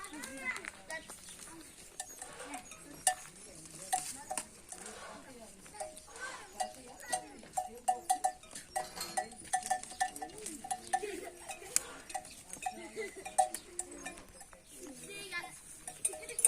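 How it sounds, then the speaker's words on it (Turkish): Scattered clinking bells ring irregularly from a moving flock of sheep in a Turkish village, with occasional bleats and a voice talking over the animals. "Burada da koyunlar."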